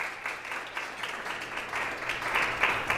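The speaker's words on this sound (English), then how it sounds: "Give yourselves a round of applause." Audience at a Bach's Lunch classical concert applauding itself; soft, scattered clapping that builds slightly in density and loudness over a few seconds.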